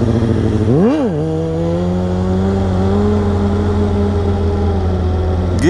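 A motorcycle engine revs hard during a wheelie, climbing sharply in one quick surge and then holding a loud, steady high-pitched drone close by.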